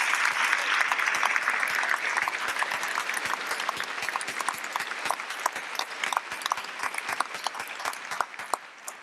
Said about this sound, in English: How about a round of applause for all those good folks?